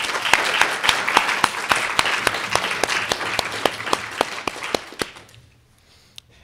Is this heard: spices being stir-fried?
no